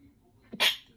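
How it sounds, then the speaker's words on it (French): A woman indoors in a kitchen lets out a single quick sneeze, a short sharp burst close by and fairly soft, after a faint intake of breath. "excusez-moi, je vais éternuer."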